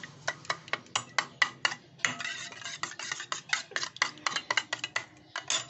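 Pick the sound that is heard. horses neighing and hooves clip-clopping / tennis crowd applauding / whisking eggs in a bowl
whisking eggs in a bowl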